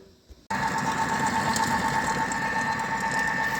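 An electric mixer creams butter with a cup of brown sugar for a Christmas pudding, switching on abruptly and holding a steady, close whirring drone with a faint rattle throughout.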